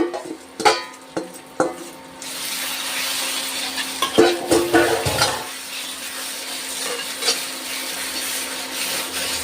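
Fish biryani gravy with mint frying in oil in a pan, stirred with scraping and knocking of the utensil early on, then a steady close sizzle carries through to the end.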